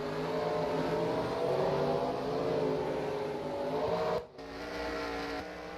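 Race cars leave pit road in an NRSL sim-racing stock car event, the Colgate 400, with a layered engine drone that swells and then briefly drops out before resuming.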